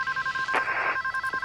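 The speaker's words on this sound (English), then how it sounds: "Let me answer the phone." A telephone rings in an electronic, pulsing trill, close and steady for its short length, with a faint rustle in the middle.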